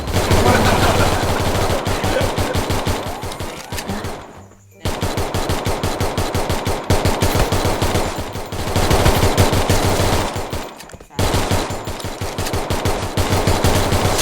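Sustained automatic gunfire in a shooting video game, loud and close, in long rapid bursts broken by two short pauses.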